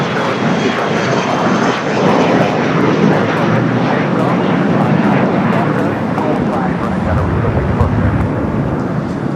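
Virgin airliner arriving at LAX on the north side, a loud continuous jet engine roar filling the scene throughout, with voices talking underneath.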